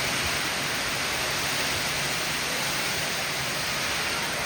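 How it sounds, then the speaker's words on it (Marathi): Heavy cloudburst rain pours down around a shed, a dense, unbroken roaring hiss that stays loud and steady throughout, with no voices. "पाऊस लय एकदम जबरदस्त चालू आहे."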